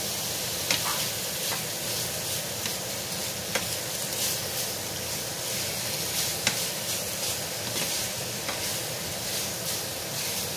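Shrimp and leftovers stirred in a sizzling frying pan, a steady loud fry hiss with occasional scrapes and clicks of a spatula against the pan, close and without talk.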